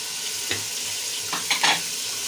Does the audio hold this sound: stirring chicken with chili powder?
yes